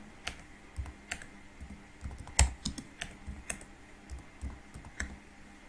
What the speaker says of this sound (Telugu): హెడ్డింగ్స్ హలో వరల్డ్ అని రాస్తున్నాను